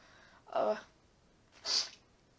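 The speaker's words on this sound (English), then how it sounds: "I have to blow my nose" Two short bursts of nose blowing a moment apart, close and fairly loud, the second sharper and higher than the first.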